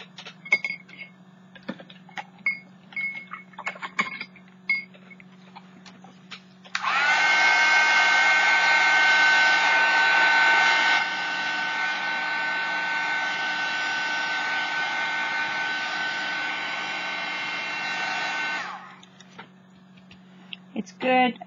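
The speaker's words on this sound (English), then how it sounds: "Now I'm going to dry that up." A hair dryer runs steadily for about twelve seconds to dry orange and other paint on a piece of junk mail, loud and close, with a slight drop in level midway. Light tapping and handling sounds come before and after.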